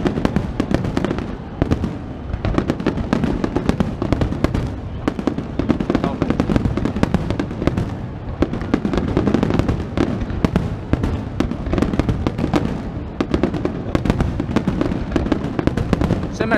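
A relentless volley of Redentore fireworks explodes above Venice, heavy booms and rapid crackles piling on each other loud and close, while spectators talk through the barrage.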